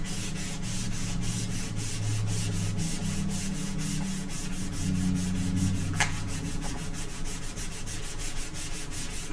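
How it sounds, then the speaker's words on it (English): Steady sanding of a cured resin art piece, a continuous rasping rub with a fast, even back-and-forth rhythm, close and alone with no talk. "anything but resin, we would not be able to sand this off"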